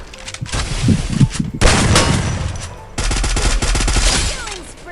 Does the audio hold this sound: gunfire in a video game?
yes